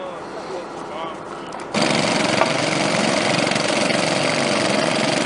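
Water pumps fill an AquaDam at a boat ramp in Wasilla, Alaska, starting up abruptly partway through into a loud, steady engine drone that continues unbroken, with faint sounds beforehand.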